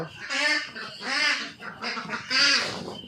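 Ducks on a small farm give three loud, harsh honking quacks in close succession, each drawn out, with short pauses between them.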